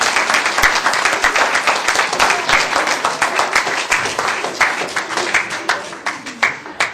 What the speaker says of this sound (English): let's give a big round of applause to bring him in